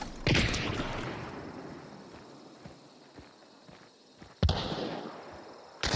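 A chaos bomb thrown in a video game goes off with two sharp, loud bursts spaced a few seconds apart, each trailing into a crackling decay, amid faint scattered game noises.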